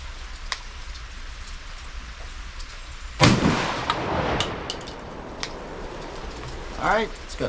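A 20 gauge shotgun fired outdoors with Boss number 4 shot at a 40-yard patterning target: a single sharp, loud blast partway through, followed by a rolling decay over quiet background noise.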